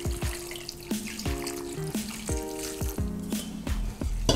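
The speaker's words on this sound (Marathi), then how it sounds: "हे पाणी गाळल्यानंतर यामध्ये आपल्याला गार पाणी टाकायचं" Cold tap water streams and splashes over freshly drained boiled noodles in a kitchen strainer, in uneven bursts of gushing and dripping, close and fairly quiet.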